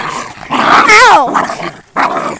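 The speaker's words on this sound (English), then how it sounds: "Oh, she's growling." A small dog growls up close and loudly during rough handling, a continuous snarling rumble that rises into a brief whining yelp before dropping off and starting again.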